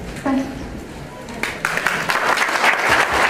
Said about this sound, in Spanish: Un fuerte aplauso, las palmas arriba, mis hermanos.